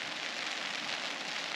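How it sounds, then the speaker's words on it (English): Steady rain falling on a Baker canopy tent at a river bank wild camp, a dense close patter without any voices. "And as you can hear, the rain started."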